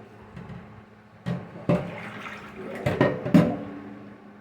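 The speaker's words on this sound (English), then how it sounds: "I just like to rinse it off" Tap water running while raw chicken is rinsed in a kitchen sink for a curry chicken recipe, a soft steady splashing stream broken by several sharper splashes and clunks as the meat is handled.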